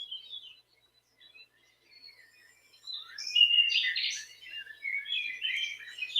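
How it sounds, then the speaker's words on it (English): Birds chirp and sing in a sanctuary, a scattering of faint high calls at first, then a denser, louder chorus of overlapping tweets and trills with no talking. "Can you hear the wonderful sounds of the birds in my sanctuary today?"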